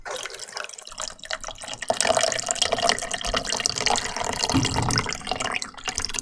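Water being poured into a cup: a close, continuous splashing trickle with dripping texture that runs steadily for several seconds.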